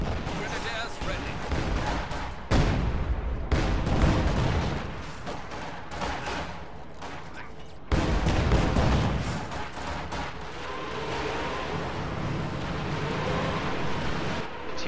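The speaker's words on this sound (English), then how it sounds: "Katyusha barrage firing on the base" Soviet Katyusha rocket barrage firing in a Company of Heroes-style strategy game, heavy repeated launches and blasts in several surges, loud and dense with a rumbling tail, a voice talking over it.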